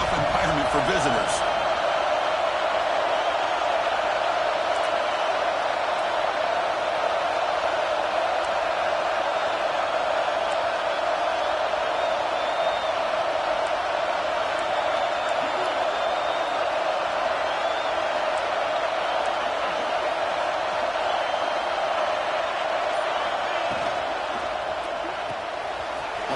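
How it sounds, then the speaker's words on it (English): A stadium crowd at a football game roars continuously, a broad steady wash of cheering that stays loud throughout with a commentator talking over it. "Listen to the crowd energy here in the early going."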